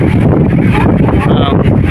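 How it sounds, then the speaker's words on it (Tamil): Wind gusts steadily across the seashore at Rameswaram, a loud, rough rush buffeting the microphone for the whole short stretch, with no clear voices over it. "காற்று லைட்டாக அடிக்குது இந்த இடத்துல"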